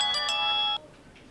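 A mobile phone rings with an incoming call, a bright melodic ringtone that plays close by for under a second and then cuts off.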